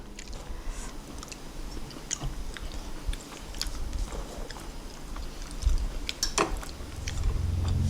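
Someone eats Swedish meatballs and ondeh-ondeh churros up close, with moist chewing, soft bites and small crunches over a low room murmur, and no talking.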